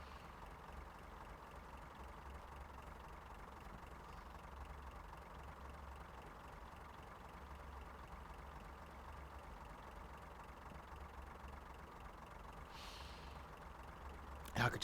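Class 142 Pacer diesel railbus, a Leyland National bus body on a rail chassis, idling in a train simulator game: a steady low engine tick-over throbbing evenly throughout, with a brief louder knock at the very end.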